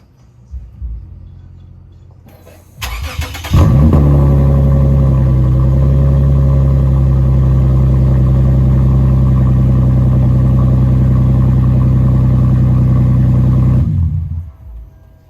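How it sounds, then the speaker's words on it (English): A Lexus IS350 with its axle-back exhaust removed, running only the resonator, cranks and starts. Its exhaust then settles into a loud, steady, deep drone that holds for about ten seconds before cutting off. "I'm gonna see what it sounds like with just the resonator and everything on."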